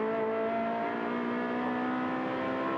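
A 4,400 cc race car engine heard on board at Mugello, a loud, steady high-pitched drone with strong harmonic whine, held at high revs without letting up.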